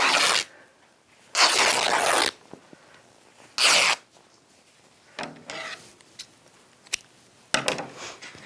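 Fabric being torn off a pioneer-style dress, heard as several short, sharp ripping bursts spaced apart at close range, with quiet handling noise between them.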